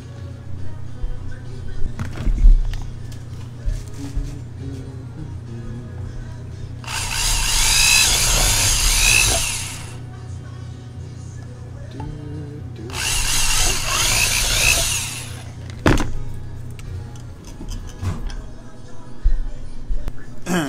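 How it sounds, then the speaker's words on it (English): A power drill bores two holes in a 4:1 balun enclosure for the taps, with two whirring bursts of a few seconds each separated by quieter handling clicks and ticking. "Next thing now is to drill two holes in there so I can bring my taps out."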